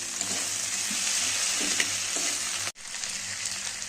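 Tomato goes into a pan of fried fish, setting off a loud, close, steady sizzle with faint stirring scrapes, briefly cut off by a sharp dropout before the hiss resumes.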